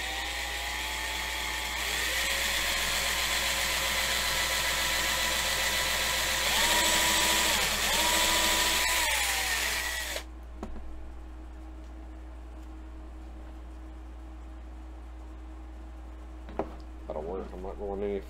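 A power drill whines steadily into a metal wheel casting for about ten seconds, pitch dipping under load, then stops, leaving quiet room tone with a few clicks.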